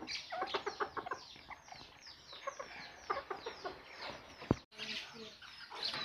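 Golden Sebright chickens, a laying flock about eight to nine months old, cluck in a steady run of short, repeated calls at close range, with a brief sharp knock partway through and no talk.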